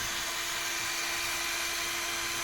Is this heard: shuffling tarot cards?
no